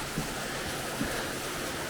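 Steady broadband rushing of a waterfall in Sakarya, Turkey, heard from beneath it, a continuous roar with no breaks and no voices.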